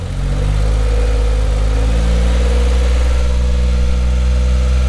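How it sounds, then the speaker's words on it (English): Suzuki Every Turbo DA52V kei van engine idling with a ticking noise: a loud, steady, close engine drone running throughout with no talking. "I don't know what that ticking is."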